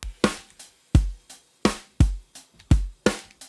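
Acoustic drum kit playing a loose, steady groove: deep kick thumps and bright snare hits alternating, close and dry with no one speaking.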